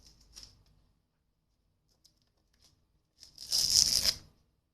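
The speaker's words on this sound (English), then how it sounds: "See how much ripping I'm getting on that?" Watercolor paper tears and rips as it is peeled off a board after painting, starting with a brief faint rip and then a louder sustained tearing burst close by.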